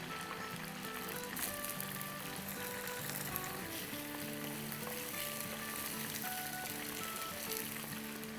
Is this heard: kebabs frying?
yes